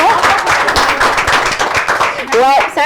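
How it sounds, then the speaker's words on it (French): Audience at a citizenship-themed broadcast event claps loudly for an association, brisk crowd applause mixed with voices, and a person talking over it near the end. "On applaudit très fort pour l'association."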